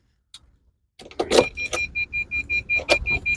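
A car key clicks, then a starter cranks and the engine catches, followed by a rhythmic series of chimes or clicks, all close inside the cabin.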